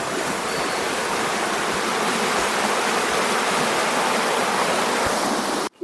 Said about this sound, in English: Just record a bit of the river.